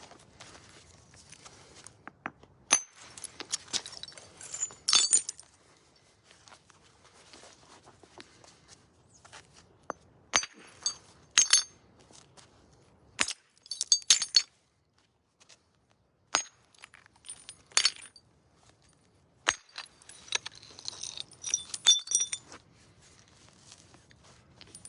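Sharp, irregular clicks and knocks of stone striking flint while knapping an axe, spaced out by pauses and some rustling, fairly close with no talking.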